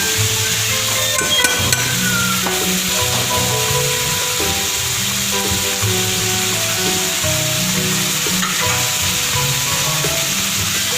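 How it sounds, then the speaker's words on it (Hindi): Chicken with carrots, chilli and other vegetables fries in a pan for macaroni, a loud, steady sizzle with occasional scraping and clinks of a utensil, while background music plays underneath. "ये अब हमारी सब्जियाँ फ्राई हो रही हैं"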